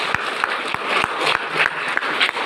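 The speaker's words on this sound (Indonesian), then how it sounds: "Tepuk tangan dari pendeta." Church congregation claps for the pastor during a Sunday service, a lively burst of applause with distinct sharp hand claps popping out of the continuous clatter, fairly close and loud.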